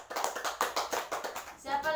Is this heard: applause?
yes